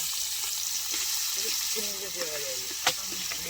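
Onion, potato and tomato sizzle steadily in hot oil for a bengali bhog khichdi, a continuous close frying hiss with a sharp clank near the end while a voice briefly talks over it.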